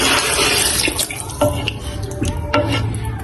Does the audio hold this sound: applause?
no